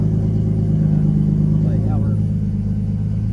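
A Nissan RB25 engine fitted with a Garrett GT3071R turbo idles steadily, a loud, close, continuous low rumble that holds an even tone throughout.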